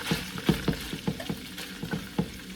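Potato cubes for burritos fry in hot oil, a steady low sizzle broken by a regular series of soft stirring knocks and scrapes, close and fairly quiet with no talking.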